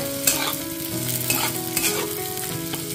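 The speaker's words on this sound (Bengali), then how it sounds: "মোটামুটি 5 মিনিট ধরে এটা ফ্রাই করে নিতে হবে।" Ingredients for Bengali muri ghonto, a fish dish made with gobindobhog rice, frying in a pan as a continuous loud sizzle with stirring scrapes throughout, close by and without voices.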